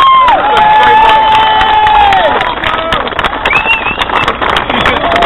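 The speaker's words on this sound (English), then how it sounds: "So one more time, a big round of applause for this." A street protest crowd in Blackpool cheers and shouts loudly and continuously, with whistles and sustained tonal calls rising over the dense, close crowd noise throughout.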